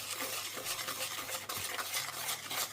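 A crème brûlée mixture is stirred while it is added gradually to egg yolks in a bowl, giving a close, continuous swishing and light scraping with no voices.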